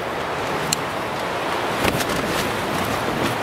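Strong Atlantic storm wind gusts across a mountainside in Spain with a loud, continuous rushing roar that buffets the microphone, swelling in a brief burst near the middle.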